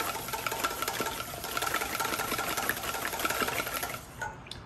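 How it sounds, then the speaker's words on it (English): Fast, steady rhythmic clatter of beaten eggs being whisked in a bowl for batter, continuous and close, tapering slightly at the end, with no talk. "give it a good whisk"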